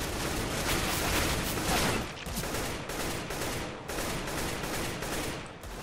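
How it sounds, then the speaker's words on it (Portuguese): Rapid short gunfire bursts from rifles in the game CS:GO, loud and close, repeating in quick clusters with brief gaps between volleys. "Se eu começar também a pegar o timing de dar uma rajadinha sempre de dois tiros assim, ó."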